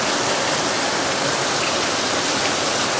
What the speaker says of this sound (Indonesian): Sorry ya kalau berisik banget nih, hujan guys